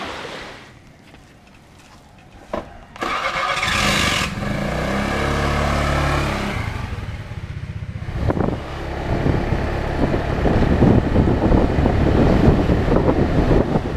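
A vehicle on a road trip through Bali heading south toward Jimbaran, engine and road noise swelling and rushing as it picks up speed, with buffeting wind, loud and close throughout, no talk.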